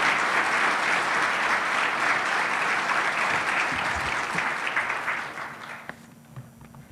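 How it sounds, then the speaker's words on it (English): A seated audience at a technology-and-society conversation event applauds in a sustained, even wash of clapping that gradually fades toward the end. "let's have another round of applause"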